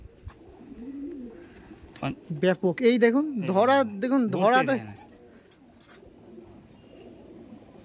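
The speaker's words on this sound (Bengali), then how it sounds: "যারা পায়রা লাইনে ওড়ানোর লাইনে আছেন পায়রা দেখুন" Low warbling coos of Andhra pigeons nearby, mixed with a person speaking excitedly over the birds.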